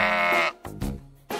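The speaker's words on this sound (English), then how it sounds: "I'm hungry, said the third Billy Goat Gruff" A goat from the Three Billy Goats Gruff children's story bleats in a short, close harmonic call, followed by two fainter bleating bursts separated by brief gaps, with no talk over it.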